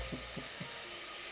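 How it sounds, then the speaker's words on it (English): A soft, steady sizzle of bacon frying in a pan, faint and continuous, with a few low knocks near the start. "Ooh, I hear the bacon sizzling."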